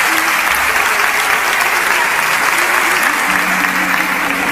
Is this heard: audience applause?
yes